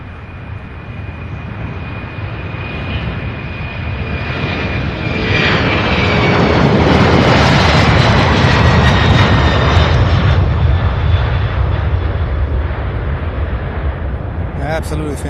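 A heavy UPS jet departs Louisville International Airport, a loud broadband engine roar that builds and swells through the middle before easing slightly, with occasional talk over it.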